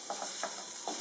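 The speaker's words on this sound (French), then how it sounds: "Et l'ail qui revient" Garlic sizzling in a pan: a steady, close hiss with soft crackling pops and faint scraping or stirring, with no voices.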